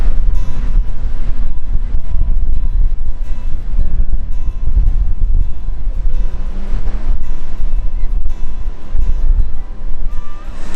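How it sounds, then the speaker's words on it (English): A noisy motor boat on the sea near a rocky cove at Hope Cove, a loud continuous engine drone mixed with heavy wind buffeting on the microphone and wash of waves, with no talking. "As much as I'd love to have a boat, that is noisy."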